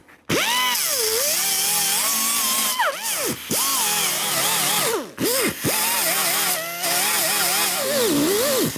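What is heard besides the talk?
power grinding down plug welds on a metal panel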